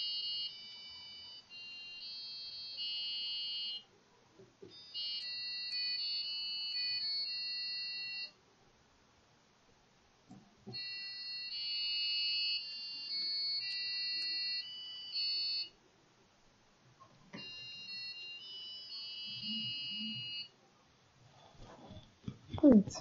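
A micro:bit's tiny piezo buzzer beeps out the Turkish national march melody in thin, high electronic tones, faint and distant, in several phrases separated by pauses, with soft handling noise and a brief voice near the end.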